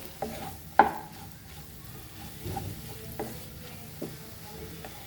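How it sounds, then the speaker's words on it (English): Chana masala base stirred and fried in a pan, a low, quiet sizzle broken by a few distinct scrapes and knocks of the spoon against the pan, with no talking. "And mix this all nicely. It has to be soft and fry properly."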